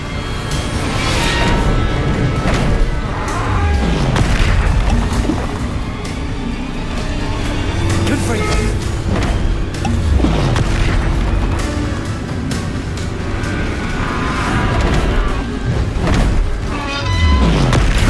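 Repeated Confringo blasting spells explode in Hogwarts Legacy duel combat: a steady string of heavy booms and bursts spaced a second or two apart, loud and close, layered over continuous battle effects.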